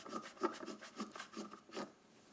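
A Parkside pressure washer fitting wrenched loose with pliers wrapped in a cloth, a few quiet rubbing, grinding twists in short uneven strokes, close by.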